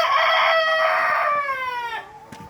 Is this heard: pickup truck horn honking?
no